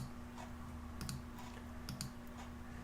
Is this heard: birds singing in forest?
no